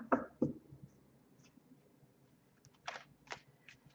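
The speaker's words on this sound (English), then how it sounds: "I shuffle the cards" Tarot cards shuffled by hand in a quiet room: a few sharp riffling snaps at the start, a soft lull, then another cluster of crisp card taps and shuffles near the end.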